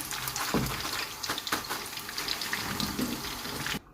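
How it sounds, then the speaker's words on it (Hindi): Prawns fry lightly in a pan with a steady, moderate sizzle and a few soft clinks of stirring, close up, before the sound stops abruptly. "ये जो झींगे होते हैं उनको बिल्कुल लाइट फ्राई करना होता है"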